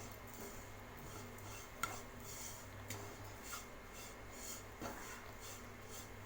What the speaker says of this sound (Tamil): சுகர் ஆட் பண்ணது இதை நல்லா மிக்ஸ் பண்ணி விட்டுக்கலாம்